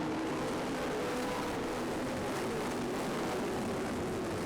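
IRA sprint cars accelerate at a speedway as the green flag drops, a continuous loud, dense engine roar with a steady harsh drone throughout and no talking.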